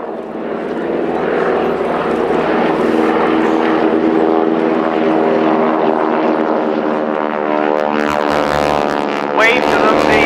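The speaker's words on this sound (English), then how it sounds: "Notice the lovely sound from the propellers." A propeller aircraft at the 2014 Shoreham Airshow passes with a loud, sustained throbbing drone from supersonic propeller tips, a rising whine close to the end and faint speech underneath.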